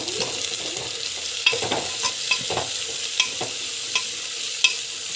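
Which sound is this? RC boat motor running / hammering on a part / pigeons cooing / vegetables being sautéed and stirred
vegetables being sautéed and stirred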